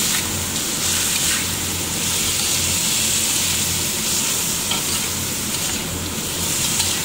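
Bean sprouts stir-frying in a hot pan for a simple Taiwanese-style sauté, a loud, continuous crackling sizzle close up with occasional scraping stir noises and no talking.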